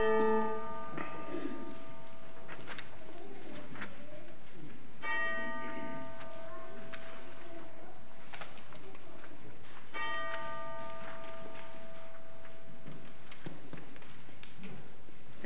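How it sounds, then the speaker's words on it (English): Church gathering bell rung at a Sunday worship service, sounding in three separate peals with long ringing, resonant decays, loud and close in a quiet room. "as our gathering bell gathers us for worship"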